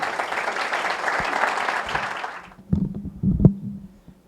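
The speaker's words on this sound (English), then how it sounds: "So let's give him a round of applause" Audience applause at a tech meetup on growth hacking in Miami: steady crowd clapping for about two and a half seconds that stops abruptly, followed by a few thumps and handling noises.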